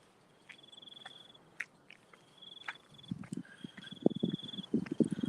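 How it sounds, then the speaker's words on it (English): Crickets chirp in short repeated high trills across a hillside of native banksias and grasses, fairly faint and steady, while a nearer crunching of footsteps or movement grows louder in the second half. "I can hear crickets or something like that."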